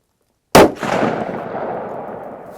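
One sharp, loud report from a suppressed Ruger Precision Rifle in 6.5 Creedmoor breaks a silence, then a long rolling echo fades away over about two seconds outdoors.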